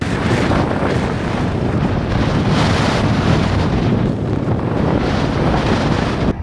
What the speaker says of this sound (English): and the wind is fierce.